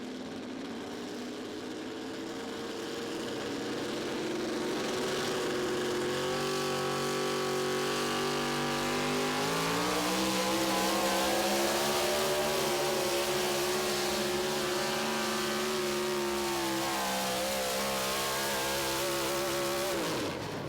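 A truck-pulling truck's engine roars steadily at high revs through a run at the 2023 Tomah, Wisconsin truck pull, a loud, sustained drone with rising and falling pitch and no talk over it.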